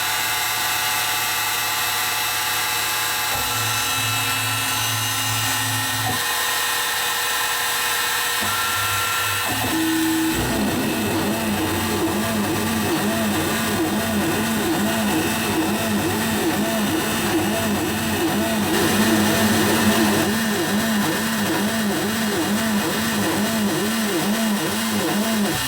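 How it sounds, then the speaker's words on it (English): Milling machine spiral milling holes with a 2-flute 3/16 inch end mill, a loud continuous motor whine that shifts pitch partway through and then settles into a cyclic, pulsing cutting tone. "I've got a 2-flute 3/16" end mill. I'm going to spiral mill it."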